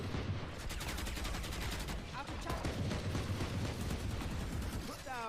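Guardian rifle gunfire in a Valorant esports match comes as rapid bursts of shots over a dense game mix of effects and abilities, with no clear talking.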